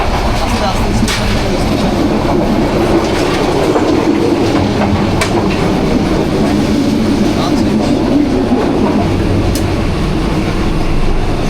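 Inside a moving carriage of the Burimari Express, a Bangladeshi passenger train running nearly empty, a loud steady rumble of wheels and rattling carriage noise fills the space with rhythmic clicks throughout.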